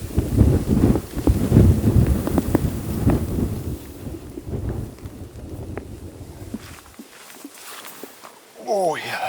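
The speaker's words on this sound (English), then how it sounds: "Hopefully the wind dies down for packing those antlers out." Strong wind buffets the microphone on an Alaskan mountain, roaring loudly under people talking before easing off toward the end.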